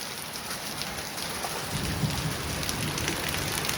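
Hail and rain fall steadily in a hailstorm, a dense continuous patter on surfaces that swells slightly louder midway, with no voices.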